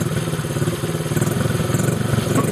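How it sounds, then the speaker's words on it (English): A child's small motorbike engine runs close by, chugging in a rapid, even pulse as it is revved. "Gonna rev it up, Gus?"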